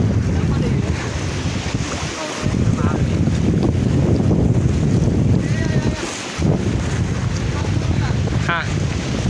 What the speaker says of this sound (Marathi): देखो लाट आ रही है.